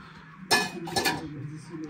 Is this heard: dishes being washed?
yes